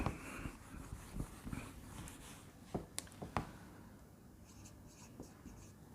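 A pen scratches on paper as a math solution is written out by hand, quiet close strokes and taps in an irregular rhythm, with no talk.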